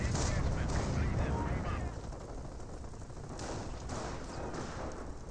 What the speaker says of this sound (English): We got this MG42 firing away